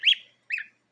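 A young goose, eating, gives two short high-pitched peeping calls about half a second apart, close and clear in an otherwise quiet space.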